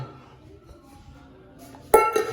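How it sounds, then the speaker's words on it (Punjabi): A vessel is set down under a juicer to catch kinnow juice in a home kitchen, giving a single sharp metallic clink near the end after a quiet stretch. "ਆਪਾਂ ਕੋਈ ਭਾਂਡਾ ਰੱਖ ਲਈਏ ਇੱਥੇ ਜਿਹਦੇ ਵਿੱਚ ਜੂਸ ਕੱਢਣਾ"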